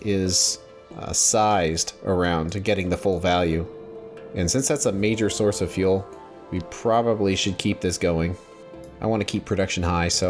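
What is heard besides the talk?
None of the usual background noises is heard.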